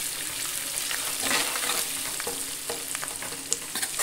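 Turmeric is stirred into a frying kat amti curry base with a continuous sizzle and hiss, while a spoon scrapes and clicks against the pan in an uneven rhythm, close up.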